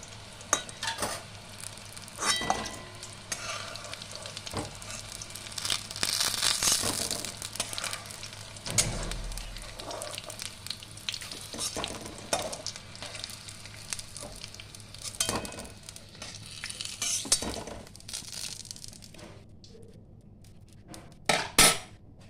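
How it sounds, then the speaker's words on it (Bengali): Sweet pumpkin pieces fry in oil in a home kitchen pan, giving a steady low sizzle under repeated scraping and clinking of a stirring utensil, fairly close and without talk. "এবার আমি মিষ্টি কুমড়ো ভেজে নিলাম।"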